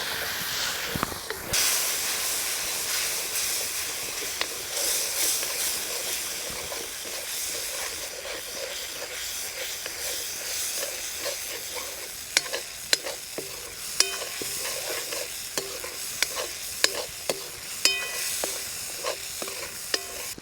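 Spice masala with crumbled gathiya sizzles steadily in a pan in a village kitchen, cooking for methi bhaji, with a continuous frying hiss and repeated scraping clinks of stirring throughout.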